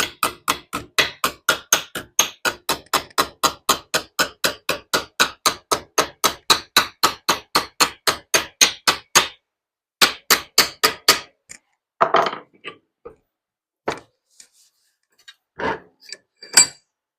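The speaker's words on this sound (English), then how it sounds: "Have a little go with a hammer." A long steady run of rapid metallic hammer blows bending rusty door metal to 90 degrees on a Mk1 VW Caddy pickup, evenly spaced and close, then a pause and a few scattered, irregular strikes and knocks.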